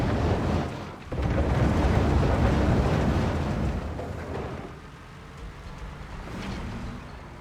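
Thunderstorm in the video game Construction Simulator (2022), a continuous broad rumble of thunder and rain-like noise that dips briefly, then swells and slowly eases, loud and without talk.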